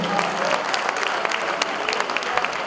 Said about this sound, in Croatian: Ajde, aplauz za Neđu